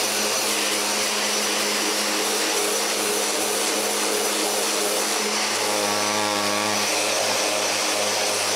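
A wooden laptop case for a Raspberry Pi gets its final sanding with a power sander, a steady loud motorised whir running throughout with a brief rising tonal whine near the end.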